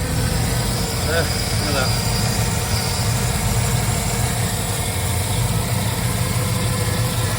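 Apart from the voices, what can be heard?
Triumph Stag car engine starting and idling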